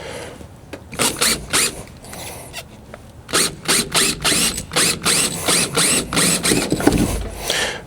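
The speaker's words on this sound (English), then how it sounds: "We are going to drill these ones out as well." A power drill bores out fasteners on a Jeep Gladiator Rubicon fender in short rapid bursts, close and loud, pausing briefly before a longer run of rhythmic grinding pulses.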